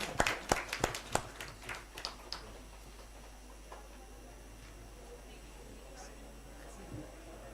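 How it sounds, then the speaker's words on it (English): An audience at a World Health Summit regional meeting gives Professor Tarun a short burst of clapping, loud and sharp at the start, then trailing off into scattered claps and room murmur. "a warm applause for Professor Tarun"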